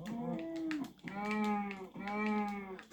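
Cows in the Minecraft video game let out three drawn-out, nasal moos in quick succession as they are killed, loud and close with short gaps between calls.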